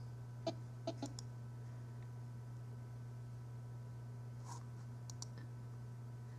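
A few quick, faint computer mouse clicks in a quiet room with a steady low electrical hum, two short bursts of clicks separated by a pause, no voices.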